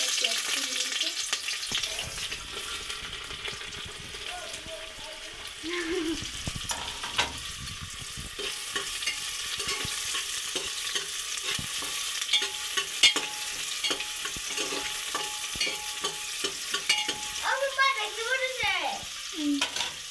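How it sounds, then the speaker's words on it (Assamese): Onions fry in hot oil over a low flame for chicken biryani, a continuous close sizzle with frequent stirring and scraping, a few brief quieter moments and scattered clatter. "এইখিনি পূৰা পিঁয়াজখিনি ৰঙা হোৱালৈকে ভাজিব লাগিব"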